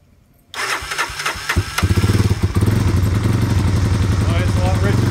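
A Honda Big Red ATC 250 ES three-wheeler with a clone carburetor and the choke on turns over briefly, catches, and settles into a loud, rough, rapidly pulsing idle with a voice talking over it.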